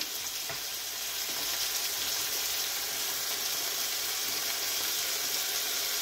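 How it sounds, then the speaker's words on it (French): Pork rouelle with onions fries in hot oil in a lidded pan, a steady loud crackling sizzle that continues evenly throughout with no speech. "on met un couvercle parce que comme vous pouvez voir, l'huile va partout"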